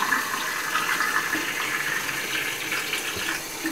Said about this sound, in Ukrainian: декілька разів заливати воду.